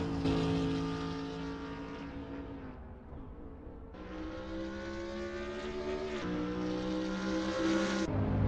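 A BMW Z4 race car engine in Assetto Corsa, a loud, continuous, harmonic-rich drone that drops briefly then climbs again through gear changes, sustained with no pauses.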